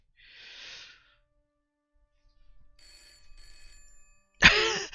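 An old-style telephone in the Broken Sword: Shadow of the Templars video game suddenly rings with a loud, harsh bell burst after quiet ambient sounds and a brief breathy noise.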